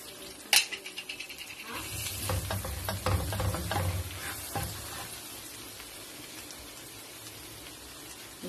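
Garlic hits hot oil in a pan for squid adobo, sparking a crackling sizzle with sharp pops and stirring clatter, then settling into a steady, softer frying hiss.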